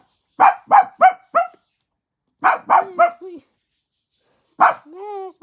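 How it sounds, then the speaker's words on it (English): A dog barks in quick bursts of three or four sharp, close woofs separated by pauses, ending with a drawn-out whining tone after the last bark. "What are you barking at?"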